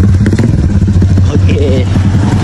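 A Modenas X1R motorcycle with newly painted rims sounds close and loud, its engine puttering and droning with rattly clatter, while a voice talks over it.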